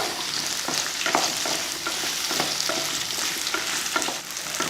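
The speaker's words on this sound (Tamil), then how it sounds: "கொஞ்சம் அந்த பச்சை வாடை போகிற வரைக்கும் மட்டும் வதக்கிக்கிட்டால் போதும்" Onions, garlic, ginger and green chilies sizzle and fry steadily in oil in a kadai as a spoon stirs and scrapes now and then. The frying is loud and continuous, with no voice.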